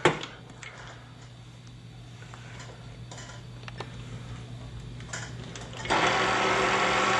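Stand mixer turning over slowly while mixing yeast, water and salt into artisan bread dough, a steady low motor hum with faint rhythmic clicks, growing louder and busier near the end.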